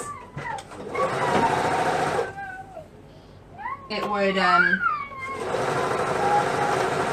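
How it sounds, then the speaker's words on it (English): A serger stitches elastic onto boys' pajama pants, whirring in two sustained bursts at the start and end, with a voice talking in the pause between them. "as I'm sewing around with the serger"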